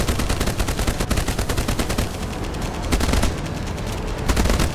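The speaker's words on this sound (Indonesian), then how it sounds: "Tembak guys, kita bantu tembak." Rapid, continuous gunfire in the pirate-themed naval video game Age of Water, dense bursts of shots crackling steadily throughout without pause.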